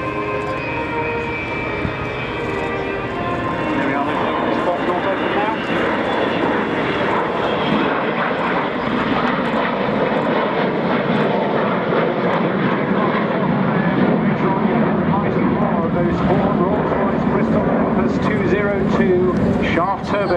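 Avro Vulcan XH558 bomber performing at an air display at Waddington, its jet engines giving a loud, sustained roar that swells and shifts as it passes. A commentator talks over the noise throughout.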